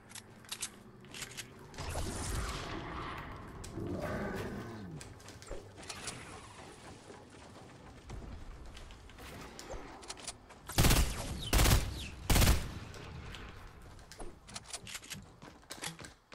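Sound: gunfire in Fortnite video game

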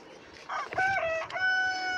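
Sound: chickens, rooster crowing

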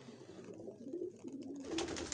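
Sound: pigeons cooing

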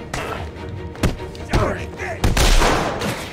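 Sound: gunfire from enemies shooting in video game Arkham City

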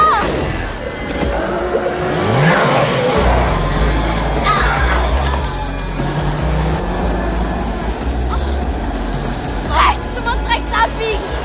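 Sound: car accelerating, tires skidding

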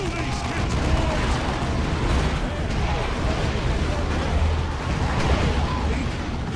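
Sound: gunfire in video game Dawn of War

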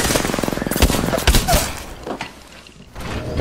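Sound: gunfire in the video game Apex Legends

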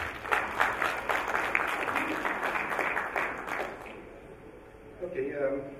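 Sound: audience applause

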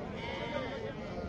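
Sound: sheep bleating at a market

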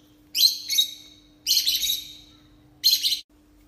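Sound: myna bird chirping

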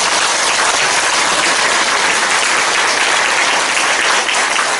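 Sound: applause at an inauguration ceremony

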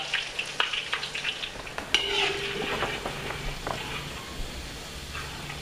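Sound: frying Thai snack batter in oil

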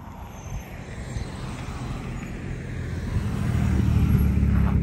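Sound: cars passing on a road

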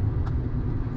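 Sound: old truck engine running

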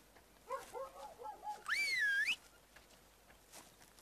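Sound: whistling with the End key in farming video game

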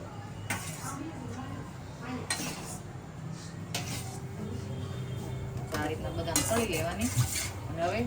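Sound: taking fried almonds out of the pan with a utensil

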